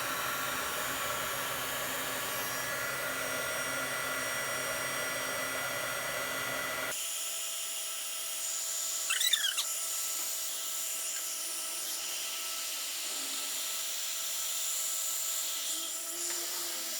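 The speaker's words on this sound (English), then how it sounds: "if you have a heat tool, you can also use the heat tool to move the resin around" A heat tool blows hot air over poured epoxy resin, a steady whooshing hum that cuts out partway through, leaving a quiet room with a few faint high squeaks.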